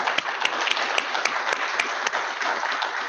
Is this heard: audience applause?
yes